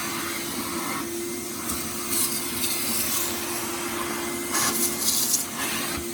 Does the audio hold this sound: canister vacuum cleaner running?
yes